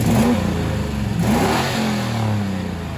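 Lifted Ford Explorer with a V8 swap and manual transmission revving: a deep, loud engine note climbs, dips around the midpoint, then rises again and holds a steady drone close by, with no talk.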